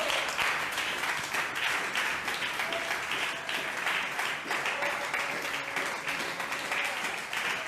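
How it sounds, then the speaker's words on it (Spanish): A church congregation applauds during a sermon, a sustained wash of many hands clapping, steady and fairly distant with a faint voice underneath. "Dele un aplauso más fuerte, déselo."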